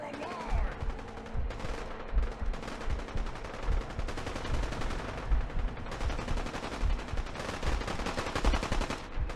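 Gunfire fills a Fallout video game battle: rapid bursts of automatic shots crackle continuously at moderate loudness, with dense overlapping volleys and no speech.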